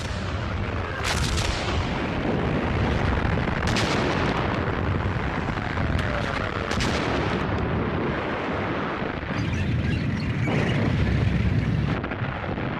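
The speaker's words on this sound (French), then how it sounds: "Les canons allemands écrasent les positions ennemies." German artillery cannons fire in a WWII desert battle near Tobruk, heavy booms and rumbling blasts recurring through a dense, continuous din of shelling, loud and close with no voices.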